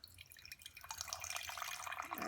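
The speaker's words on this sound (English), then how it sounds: "and pour it into my big old mug." Water pours from a thermos into a big mug as a close, trickling, splashing stream. It grows fuller and louder as the mug fills.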